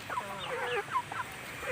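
A chicken clucks in a quick run of short, rising and falling calls, fairly close but not loud, over a steady background hiss.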